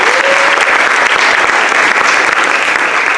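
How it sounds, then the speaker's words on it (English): A big round of applause from an audience for two mothers, loud, dense and sustained clapping that holds steady throughout. "I want to give these two lovely ladies a big round of applause for grabbing me"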